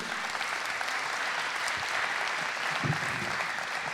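Steady applause from a conference audience after a round-table presentation fills the room, a dense continuous clapping at even volume throughout, with a faint murmur of voices underneath.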